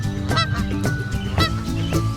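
A recorded goose honking sound plays from a farm animal toy, a loud, close series of nasal honks in quick irregular succession, alone without talking.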